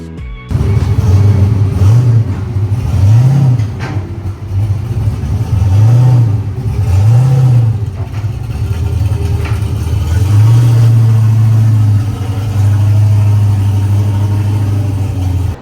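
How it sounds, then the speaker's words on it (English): A ShopTruck truck engine revs on a chassis dyno in a race shop, loud and close, climbing in repeated rising-and-falling pulls before settling into one long sustained high-rpm run, with no talk over it. "Got ShopTruck on the dyno. Gonna make sure that everything works."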